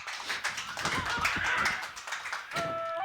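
A small group claps hands at a speedrunning charity event, a brief burst of light, rapid applause lasting a few seconds, with a voice murmuring briefly at the end.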